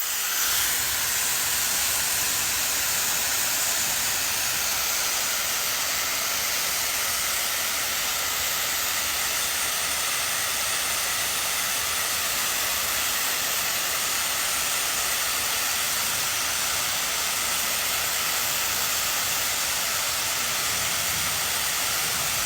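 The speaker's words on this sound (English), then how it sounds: "let's do this in real time with the hair dryer" A hair dryer blowing steadily at close range, a loud, even airy hiss with a constant motor tone that runs unchanged throughout, no speech.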